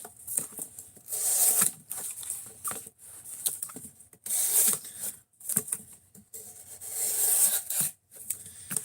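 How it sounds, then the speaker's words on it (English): A knife is sharpened freehand on a whetstone in repeated rhythmic scraping strokes, close and fairly quiet, with short pauses between passes. "Now we're going to sharpen this one freehand."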